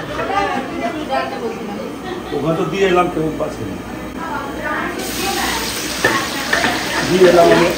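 Fish and curry fry in a large Durga Puja bhog kitchen, loud continuous sizzling and stirring under several people talking and chattering nearby.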